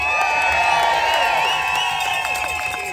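A protest crowd in Washington DC cheers and whoops loudly, with scattered shouts over a dense wash of voices that stays strong throughout.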